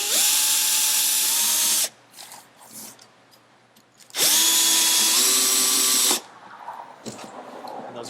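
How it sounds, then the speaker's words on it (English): A cordless power drill driving screws back down while mounting a solar energy storage unit, in two loud, steady whirring bursts of about two seconds each, separated by a short quiet pause. "you're just going to take your drill, tighten those back down"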